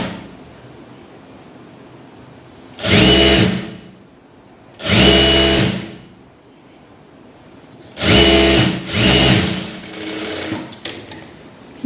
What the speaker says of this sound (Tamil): இப்படி ஒரு ஃபோல்ட் பண்ணிவிட்டு அப்படியே அடிச்சு விட்டுருங்க